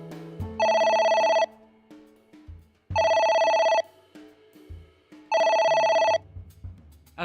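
Telephone ringing in the video game AI: The Somnium Files, three loud, evenly spaced electronic rings, each lasting under a second, over a quiet, low musical background.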